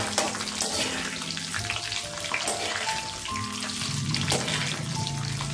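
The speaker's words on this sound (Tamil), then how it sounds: "கொஞ்சம் உளுந்து செவக்கட்டும், இந்த பட்டையெல்லாம் பொறியட்டும் எண்ணெயில்" Urad dal, fennel seeds and cinnamon frying in hot oil in a South Indian kitchen, a steady close sizzle and crackle running throughout with occasional stirring clinks.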